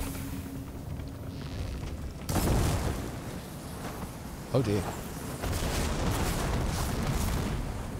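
A blaze barrel blows up in Horizon Forbidden West, a loud, close blast followed a couple of seconds later by a second sharp burst, with game rumble continuing and a voice briefly reacting.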